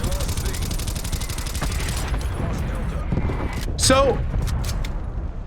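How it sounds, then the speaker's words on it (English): Rapid automatic fire from an XM4 rifle in the video game Black Ops Cold War: a loud, sustained burst lasting about two seconds, then quieter game sounds while someone talks. "now I'm going to shoot this side of it"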